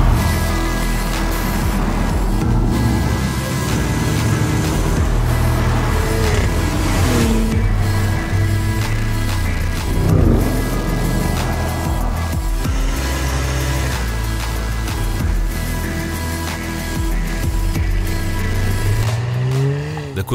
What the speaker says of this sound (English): Do you hear the sports exhaust pipe?